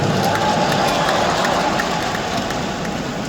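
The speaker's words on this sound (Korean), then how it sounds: "이동호 교수께도 감사의 박수를 보내주시기 바랍니다" An indoor audience gives steady, dense applause in a continuous loud wash of many hands clapping. No single claps stand out, and the sound eases slightly toward the end.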